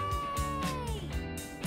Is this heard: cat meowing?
yes